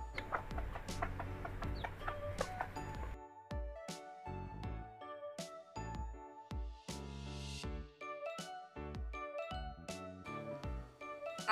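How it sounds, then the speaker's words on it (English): A hen clucks in short repeated bursts over a light tinkling musical backing, the calls clear and close with gaps between them. "H for hen."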